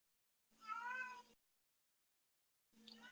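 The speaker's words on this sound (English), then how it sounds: "I might go kill this cat." A house cat meows twice, loud and close, with a drawn-out first call and a second starting near the end, separated by silence.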